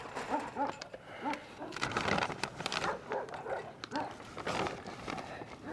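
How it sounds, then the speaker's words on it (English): Young puppies from a rescued dog's litter whimper and give small yips close by, with soft shuffling and a person talking gently over them throughout. "They're puppies."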